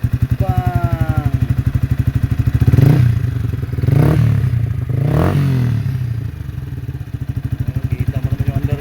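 A Yamaha Sniper 150 motorcycle fitted with an aftermarket pipe idles close by, its steady rapid exhaust pulse holding throughout, with three short revving swells around the middle before settling back to a throbbing idle.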